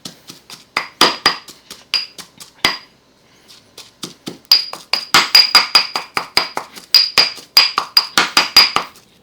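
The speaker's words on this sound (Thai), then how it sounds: "โขลกไปเรื่อยๆให้ละเอียดก่อนเลยครับ" Red curry paste pounded in a mortar and pestle, with repeated sharp, hard thuds in steady bursts and a brief pause midway, close and loud with no talking.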